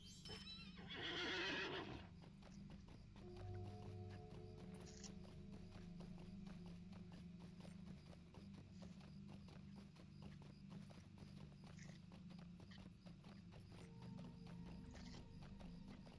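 Horse whinnying loudly in Lord of the Rings Online near the start, then steady clip-clop of hooves continuing throughout with game music tones in the background.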